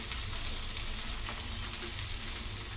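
Sabudana and bhagar thalipeeth flatbread frying in a little oil, a steady close sizzle with soft crackle running evenly throughout.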